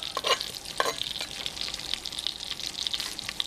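Chopped onion hits melted butter in a pan with a steady hiss and crackle, and the sizzling is broken by a couple of brief stirring scrapes near the start. It plays on its own at moderate loudness with no talk.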